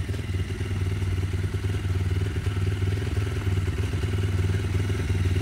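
Varetti VR 150cc motorcycle idling steadily up close while its oil warms, a continuous low engine rumble with a fine mechanical clatter and no speech.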